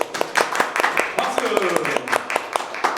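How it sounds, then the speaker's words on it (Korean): A church congregation claps in a steady, rhythmic beat, the sharp claps landing evenly and close while a voice talks over them. "우리 박수로, 네, 감사합니다."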